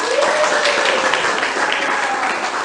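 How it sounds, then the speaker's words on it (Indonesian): Applause for a group at an organisation training at an Islamic boarding school, a dense continuous patter of many hands filling the room at steady loudness, with a voice speaking over it. "Tepuk tangan untuk kelompok 3."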